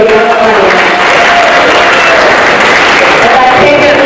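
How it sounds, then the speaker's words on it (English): A festival crowd applauds young performers, a loud, saturated roar of clapping mixed with crowd noise and a voice over a sound system. "Let's just give a round of applause to the young talent."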